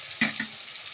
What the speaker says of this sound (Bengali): আলুটা আমার ভাজা হয়ে গেছে